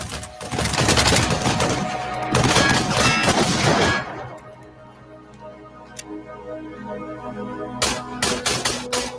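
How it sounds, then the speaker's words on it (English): Rapid bursts of machine gun fire from a long-range robot enemy in a video game, loud and dense for about four seconds, then fading into quieter ambience before sharp shots return near the end. "The optic is a long-range enemy that pins down the player with a machine gun."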